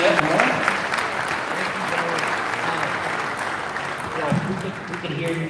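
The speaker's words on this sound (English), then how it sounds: "So please, round of applause for Michael Kelly" Audience at a tech AI conference in a hotel ballroom applauding, a dense, sustained wash of clapping from a sizable crowd that holds steady throughout with a slight swell near the end.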